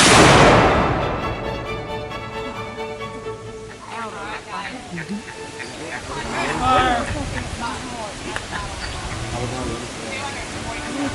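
Cannon firing at Shiloh National Military Park: one loud, close boom at the start that rolls off into a long echoing tail, followed by crowd chatter and voices talking over the fading rumble.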